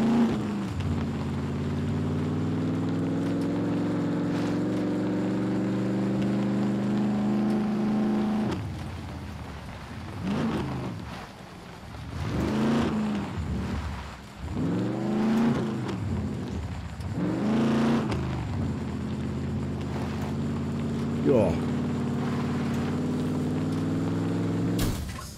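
Car engine droning steadily along a road in the survival game Scum, with harmonic hum shifting pitch as it revs and eases, loud and close, with a few rougher bursts midway.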